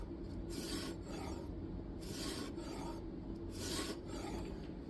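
A Kizer Domin knife blade of N690 steel is stroked across a 1000-grit sharpening stone, giving steady rhythmic rasping scrapes about every second, close and quiet with no voices.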